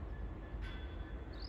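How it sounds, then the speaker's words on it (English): An intermodal aggregates freight train passes on the Fen line at Ely, a steady low rumble of wagons rolling by at moderate distance, with a brief high squeal partway through and no talking. "intermodal aggregates freight train working a service from Ely Papworth sidings"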